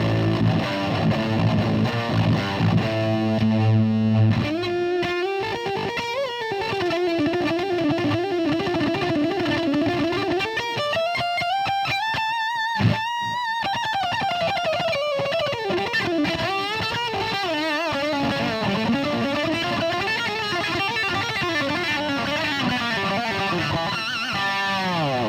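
Electric guitar played through a TC Electronic Dark Matter distortion pedal with the bass turned well down: heavily distorted chords give way to sustained bending lead notes and sliding phrases, loud and continuous with no talking.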